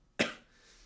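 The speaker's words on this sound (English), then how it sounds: "I even started coughing." A single sharp cough bursts out close by, followed by a faint fading tail and quiet background.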